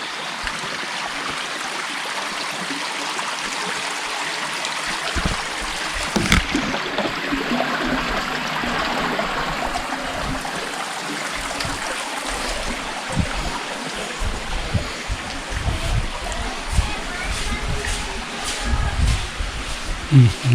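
Water running across a slippery stone path at Chitradurga fort makes a continuous trickling, gurgling wash, with occasional low bumps and thuds mixed in.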